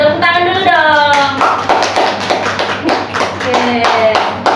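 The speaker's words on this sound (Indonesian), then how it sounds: "Tepuk tangan dulu dong." Young children in a microteaching class clapping their hands, a burst of quick, close, fairly loud claps with children's voices calling out at the start and in between.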